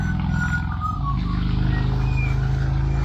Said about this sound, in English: noisy motorbikes, sorry.